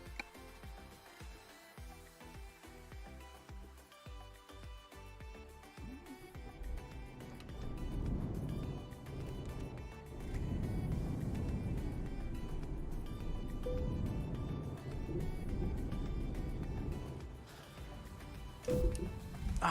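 A Volvo truck engine in a truck driving game rumbles low and steady, swelling louder partway through as it revs up and holding a droning hum, with no talk over it.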